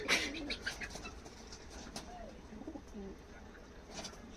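Soft, low coos from a pair of imported Teddy pigeons repeat several times at close range, with a few faint chirps and rustles in a quiet setting.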